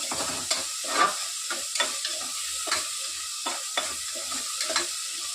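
Tomatoes cook in oil in a pan on a gas stove for a village-style country chicken curry. A continuous sizzle is broken by repeated scraping stirs in an uneven rhythm, close and fairly quiet, with no talking.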